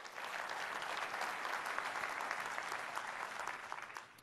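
Conference audience applauding as a show of hands, steady dense clapping from a large room lasting several seconds at even strength.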